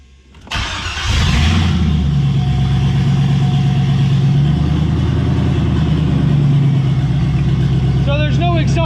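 A C5 Corvette engine with no exhaust fitted cranks and catches, then settles into a loud, rough, steady idle close by, with a voice briefly audible over it near the end.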